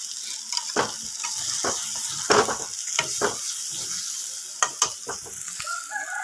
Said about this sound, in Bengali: এবার আমি মাছগুলা যে রেখেছি আমি সেই মাছগুলা দিয়ে দিচ্ছি